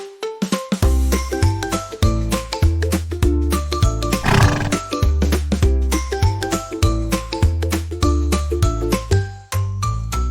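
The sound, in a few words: horse neighing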